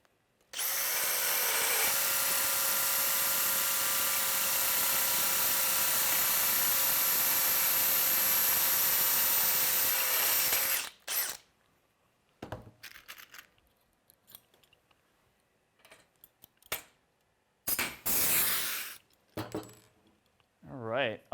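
Power drill boring a rivet hole, running as a loud continuous high whine for about ten seconds, then cutting off, followed by scattered clinks and handling of metal parts and a voice.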